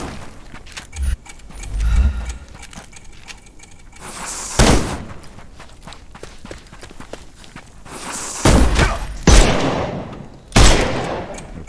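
Gunfire in a Sherlock Holmes video game: several loud, sharp shots burst out at irregular intervals over busy background game noise with shuffling, running footsteps, fairly close and with no talk.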